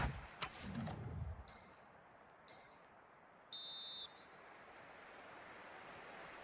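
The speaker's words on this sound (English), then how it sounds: "So the referee's whistle" A referee's whistle in an eFootball match sounds as several short, shrill blasts in quick succession, the last one held longer, over a faint crowd hiss.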